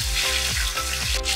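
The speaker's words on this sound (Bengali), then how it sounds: "আর এই মাছ তেলে দিলে খুবই তেল ছিটকয়" Pabda fish sizzles steadily in hot oil in a pan, a close, continuous crackle with bursts of spattering and no voices.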